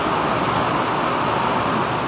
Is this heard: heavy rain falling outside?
yes